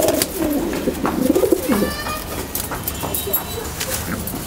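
Racing pigeon cooing close by, a run of low throaty coos over the first two seconds, followed by fainter chirps and background noise.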